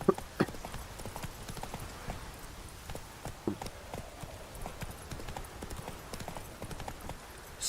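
Roach, a horse in the video game Witcher 3, gallops with a steady, rapid clip-clop of hooves throughout, close and clear over a faint ambient bed with no talking.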